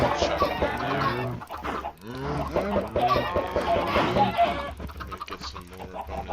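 Minecraft chickens cluck over and over, a dense run of close, fairly loud fowl calls with short pauses.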